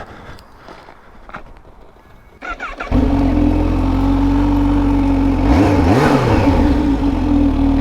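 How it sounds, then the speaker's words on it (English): A Kawasaki motorcycle fitted with a quick shifter fires up and settles into a loud, steady engine drone, with a brief rev swell partway through, heard up close with no talk. "We're going to jump on the bike, go out for a ride"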